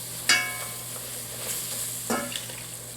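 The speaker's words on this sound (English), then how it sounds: "And you have to stir" A silicone whisk works milk into a thickening sauce in an enamel-coated cast iron pan, with two brief scraping strokes standing out against a quiet background.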